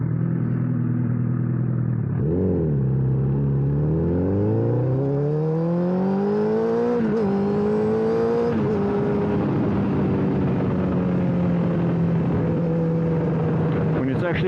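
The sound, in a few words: Honda CBR1000RR Fireblade motorcycle riding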